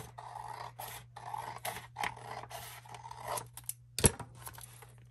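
Scissors cutting through a sheet of journal paper, a run of close, quiet scraping snips in short uneven strokes, ending with a sharper click near the end; no voice is heard.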